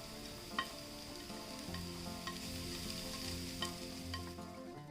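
About three finely chopped onions sizzle steadily in a pan for beef chatti pathiri, with a constant frying hiss broken by a few sharp crackles and light stirring scrapes, close and unaccompanied by any voice.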